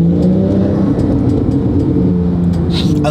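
Inside a Porsche 911 Turbo S fitted with a 1300 hp LCE engine, a loud, continuous engine roar builds with rising tonal whine as the car accelerates, filling the cabin.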